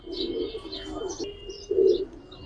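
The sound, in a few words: pigeons cooing, Budapest female pigeon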